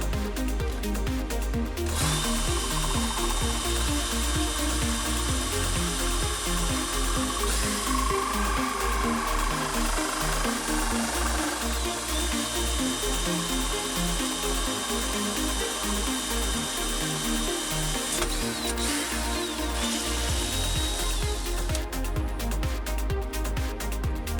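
A power drill whirs steadily at close range, grinding through wood with a rough ratcheting texture, pausing briefly and starting again.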